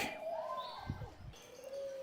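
Soft, low cooing from doves in a cage at the Bangladesh National Zoo, Dhaka, close by, with a few chirps and a steady whistle-like tone in the background.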